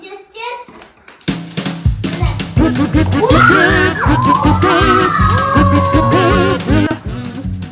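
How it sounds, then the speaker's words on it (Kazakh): Steady rhythmic hand claps keep time with loud, upbeat music at a clown show, close and continuous. "Шапалақ ұрып отырыңдар."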